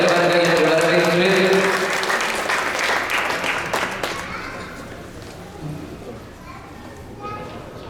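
Audience applause at a Pongal festival in a Hindu temple hall, loud clapping at first that thins and fades away, with children's voices and bustle of the gathering behind it.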